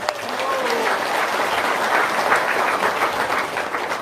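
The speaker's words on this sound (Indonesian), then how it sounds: "Tepuk tangannya dong." An audience claps and cheers in a hall, dense sustained applause at high volume that carries across the whole stretch, with a voice briefly audible near the start.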